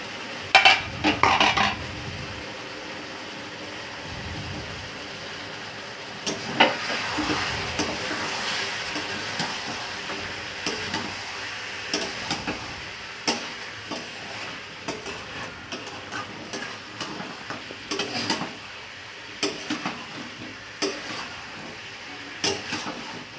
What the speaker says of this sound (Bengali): এইভাবে ঢাকা চাপা দিয়ে আমরা মাংসটাকে ভালো করে কষিয়ে নিচ্ছি